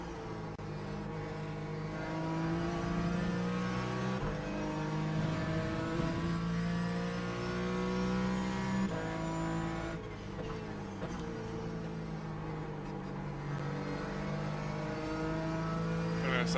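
Race car engine lapping the Nurburgring in the sim racing game iRacing, a loud, steady drone with harmonics rising and falling through gear shifts and revs, running continuously without a break.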